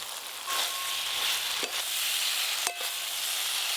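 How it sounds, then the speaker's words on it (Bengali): Okra fries together with spices in a pan for mustard okra, a steady close sizzle with a couple of brief stirring scrapes. "মশলা আর ভেন্ডি একসঙ্গে কষানো হয়ে গেল।"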